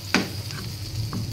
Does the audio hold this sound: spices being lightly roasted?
yes